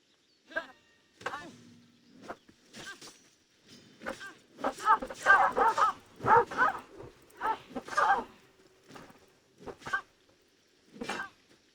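A dog barking in the game Assassin's Creed Odyssey, several scattered barks and yips spread over the stretch, some clustered into a busier flurry midway, under someone talking at times.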